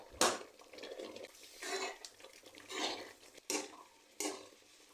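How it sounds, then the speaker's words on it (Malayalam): A spoon scrapes and knocks against a pot as semolina is stirred into boiling water for upma, giving several separate scraping strokes with sharp clinks, close and fairly quiet. "റവയിട്ട് നന്നായിട്ട് ഇളക്കുക."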